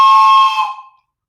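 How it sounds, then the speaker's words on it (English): A toy train whistle gives one loud, close, steady shrill blast that cuts off and fades quickly into silence. "today I've also got my train whistle, and it's going to warn Goatee when the train comes"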